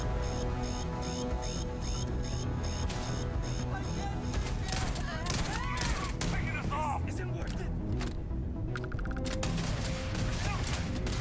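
Repeated gunshots from a weapon in the space game Starfield crack and thump in quick bursts over a dense layer of other game sounds, while someone speaks over the action.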